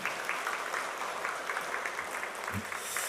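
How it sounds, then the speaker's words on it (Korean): A church congregation at a Sunday morning service applauds to welcome a missionary, steady crowd clapping that holds evenly throughout, with a brief low thump near the end. "우리 박수로 우리 선교사님 환영하겠습니다."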